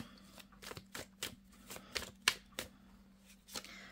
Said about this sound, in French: je vais venir placer quelques cartes avec le tarot